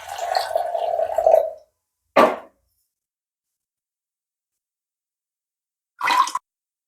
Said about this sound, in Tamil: இதை தண்ணியில் கழுவிடலாம்.